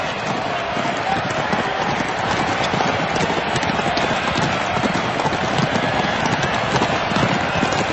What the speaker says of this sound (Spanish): la ciudad del Palio, una carrera de caballos que se celebra en la Piaggia del Campo